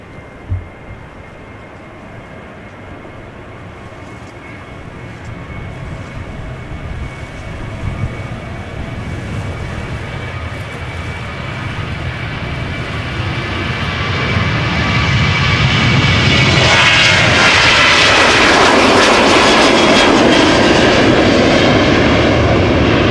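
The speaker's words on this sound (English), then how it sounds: "Now in the meantime we have a 737-800 that will be going to Ibiza" A KLM Boeing 737-800 jet, 25 years old, departs Amsterdam Schiphol, its engine roar building steadily from a distant rumble to a loud, close, broadband blast with a rising whine near the end.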